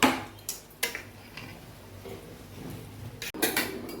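Metal clinks and scrapes of a spoon against a khichuri pot, then a lid set down on it, in a series of sharp, close, distinct knocks in a quiet kitchen.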